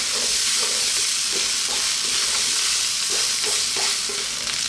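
Cauliflower mushroom fried rice stir-fries in a hot pan, a loud, continuous hissing sizzle with rhythmic spatula scrapes and tosses repeating throughout.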